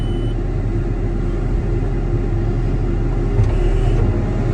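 A skid steer loader's engine runs steadily on a snowy morning while its frozen tracks hold it in place, giving a loud, continuous low rumble with a slight surge near the end.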